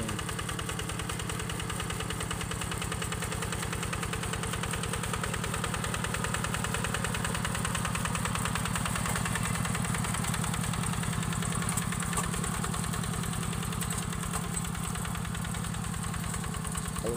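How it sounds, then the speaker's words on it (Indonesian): A tractor engine working a rice paddy, running steadily with a continuous rumbling, knocking idle-like drone close by and no talk over it. "Traktor"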